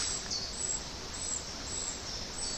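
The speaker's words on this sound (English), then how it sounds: "God, the bird song, absolutely beautiful" Songbirds sing by a canal lined with narrowboats in the early morning: faint, distant chirps over a steady background hiss.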